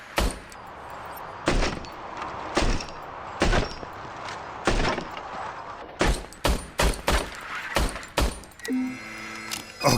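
Gunfire from the video game Robocop: Rogue City, a series of loud, sharp shots spaced irregularly, then a rapid cluster of bursts near the end, with no talking.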